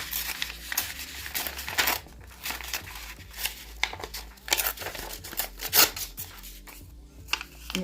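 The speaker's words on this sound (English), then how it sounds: "Rip this brown one out." A sheet of brown decorative paper is torn free from a pad in a crafting session, giving a string of close crinkling, ripping bursts and sharp tearing snaps, uneven and loud, with no talk over them.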